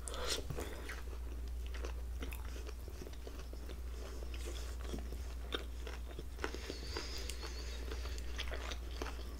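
Close, steady chewing and biting of sushi uramaki rolls filled with fish roe and shrimp, dipped in wasabi and soy sauce, with frequent crisp wet crunches repeating over a low constant hum and no talking.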